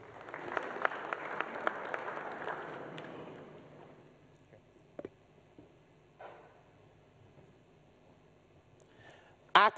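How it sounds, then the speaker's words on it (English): Audience applause for the Health Direct presenting team at a Ghanaian digital enterprise event: dense, loud clapping that fades out over about four seconds, followed by near-quiet room tone with a few scattered knocks. "let's give them a round of applause"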